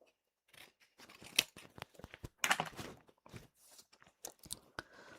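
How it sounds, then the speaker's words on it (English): Scissors snip through card for a handmade 6x6 birthday card, a close, quiet series of irregular crisp cuts and crunchy rustles with short pauses between strokes. "I'm going to cut that out."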